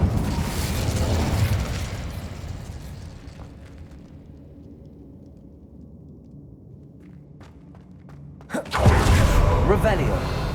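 Incendio fire spell cast in the Hogwarts Legacy video game, a loud fiery whooshing burst at the start fading into a quieter low rumble, then a second sharp burst near the end.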